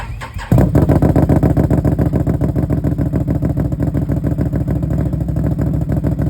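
A Can-Am 850 XTMR with Cut n Grooved exhaust fires up after a brief crank and settles into a loud, close, lumpy idle with a steady, deep pulsing beat.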